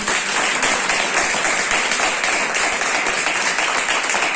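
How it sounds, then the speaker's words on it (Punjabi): A church congregation claps loudly together, a dense, steady wash of applause that runs evenly and without a break from start to finish. "ਤੇ ਕਰੀ ਜ਼ੋਰਦਾਰ ਤਾੜੀਆਂ ਮਾਰੋ।"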